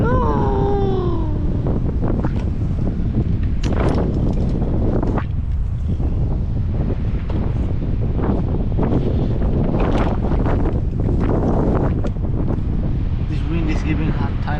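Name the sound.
strong wind blowing during outdoor abseiling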